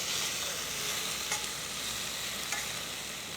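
Garlic, green chili and tomato fry in a home kitchen pan for fish curry, giving a steady close sizzle with faint stirring scrapes throughout.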